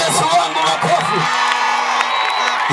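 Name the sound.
congregation clapping and cheering for Jesus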